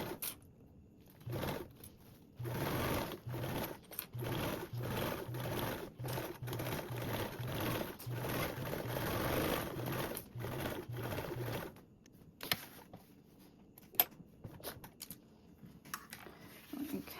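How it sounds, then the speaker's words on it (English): A sewing machine stitches binding on a duffle bag at a 3/8 seam allowance, a steady rapid mechanical chatter in repeated bursts for about ten seconds before it stops, leaving quiet handling noises. "We're sewing with a 3/8 seam allowance."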